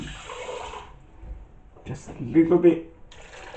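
A small splash of water is poured over chopped watermelon in a blender jar, giving a brief, soft trickle near the start while a voice talks over it.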